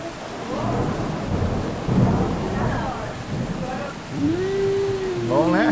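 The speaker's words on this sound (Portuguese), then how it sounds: "Ao som da chuva." Steady rain pours with a low rumble of thunder rolling underneath, close and fairly loud, while people talk over the downpour.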